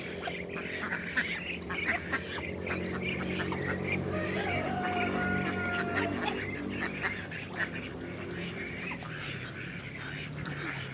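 Pet ducks quack repeatedly in a lively, overlapping chorus nearby, with a steady background hum of the yard underneath; a few soft voices murmur among the calls.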